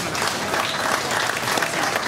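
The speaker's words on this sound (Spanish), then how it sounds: "Felicidades y fuerte aplauso, por favor." Continuous, dense applause from a crowd at a municipal ceremony honoring a student award, steady and fairly loud throughout with no voices cutting through.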